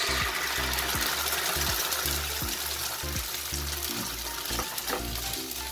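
Tomato sauce poured into a frying pan over garlic and onion sautéed in a little oil, with a steady loud sizzle and bubbling plus wet, trickling pour sounds running throughout, no talking.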